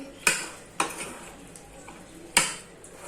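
Ground coriander and other spices being mixed in a bowl, three or four sharp utensil knocks against the bowl amid quiet scraping, close and alone.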